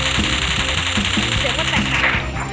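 MP5 submachine gun fire in the Free Fire video game, heard as a fast, steady rattle of shots repeating for a couple of seconds, loud and close, over a background of game sound.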